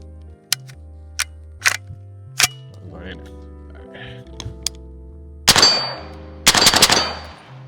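An FN 15 rifle fires unsuppressed subsonic rounds outdoors: a few sharp single shots early on, then two loud, closely spaced volleys near the end, with a voice talking faintly in between.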